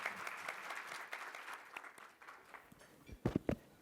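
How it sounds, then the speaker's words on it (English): Audience applause at a panel event on a global LGBTQ movement, steady dense clapping throughout from a moderately distant crowd, with a few louder close claps near the end. "Big round of applause for Ambassador Tickner and for all of our panelists here today"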